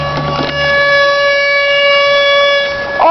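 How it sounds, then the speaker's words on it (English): Air raid sirens sounding during a lightning storm over Boise, a loud, sustained, steady wailing tone with layered harmonics, holding nearly level throughout with a slight rise and fall. "I think there's air raid sirens!"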